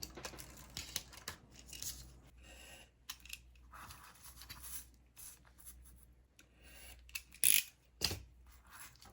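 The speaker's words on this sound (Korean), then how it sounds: "그래서 소매단을 좀 잘라내야 되거든요." Colored hanji paper is cut with a knife on a cutting mat to trim a paper hanbok sleeve, heard as quiet, close scraping and rubbing strokes with soft rustles and a couple of sharper ticks, no speech.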